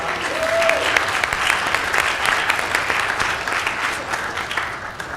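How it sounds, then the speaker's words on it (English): Audience applause at a college presidential briefing, a sustained steady patter of many hands clapping throughout, fairly loud and close. "Let's give her a round of applause."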